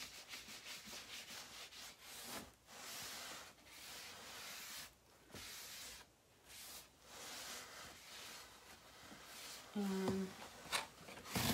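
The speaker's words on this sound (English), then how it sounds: "I'm going to rub it on the edges here so it blends in." Steady, close rubbing and scuffing as chalk spray is worked into paper edges to blend, continuous strokes with brief pauses, a short spoken word near the end.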